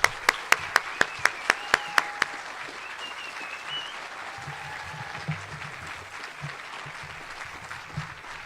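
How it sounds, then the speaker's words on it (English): At an 8th grade promotion ceremony, an audience gives a brisk run of about nine sharp, evenly spaced handclaps that stops after two seconds, leaving a soft room murmur. "Let's give her an equally energetic round of applause."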